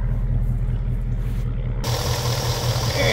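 A 2020 Ford Mustang GT Premium with the 5.0 V8 idles steadily, its deep exhaust rumble constant and close, with a brighter broadband rush rising partway through.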